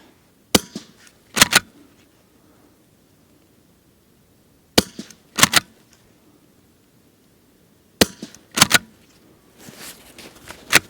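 Three pairs of sharp, close shots from a Blaser R8 straight-pull .22 rimfire rifle firing Winchester 40 grain subsonic ammunition, each crack followed quickly by a second report or bolt clack, separated by quiet gaps.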